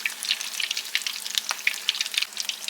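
Grit puppies sizzle and crackle steadily in hot oil in a pot, a dense continuous frying sound with scattered pops, fairly close.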